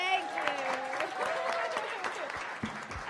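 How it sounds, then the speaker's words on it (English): A studio audience on a late-night show claps and cheers in a steady, moderately loud burst, with voices mixed into the applause. "let's give a round of applause first"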